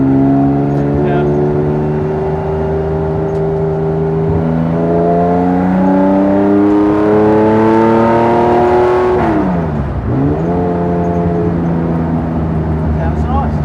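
Lightweight-built classic Porsche 911 engine driving and revving, its loud steady drone climbing in pitch through the gears, dipping sharply during a shift and then building again, heard from on board for the whole stretch.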